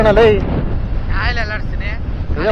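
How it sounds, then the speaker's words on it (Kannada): Strong wind roars and buffets the microphone nonstop, with someone talking loudly over the rushing noise. "ಈಗ ಗಾಳಿ ತಳ್ತೈತೆ ನಮ್ಮ ಬೈಕ್ನ"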